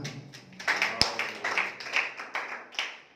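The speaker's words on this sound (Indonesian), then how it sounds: "Sekali lagi boleh tepuk tangan bagi Tuhan." Church congregation clapping in praise to God, a fairly steady run of moderate claps with one sharp louder knock, heard in a reverberant hall without speech.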